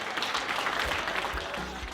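Dense, continuous clapping from a large audience, steady and fairly loud throughout, with no voices standing out.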